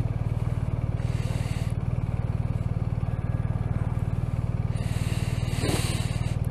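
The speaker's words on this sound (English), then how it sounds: "coming up to a light, down to fourth, brake, down to third" A BMW R 1250 RT motorcycle engine idles and runs in a steady low pulsing drone while downshifting through the gears with gear shift assist, with faint mechanical clicks near the end.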